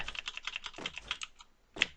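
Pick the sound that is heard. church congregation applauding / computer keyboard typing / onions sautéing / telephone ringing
computer keyboard typing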